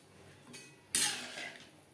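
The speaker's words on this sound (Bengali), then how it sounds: "গ্রেভির সাথে ডাটা ও আলু বেশ ভালো করে মিক্সড করে দেব" Drumsticks and potatoes are stirred into gravy in a pot with a metal utensil, giving faint scraping clinks followed by one sharper, louder clatter and scrape that fades out.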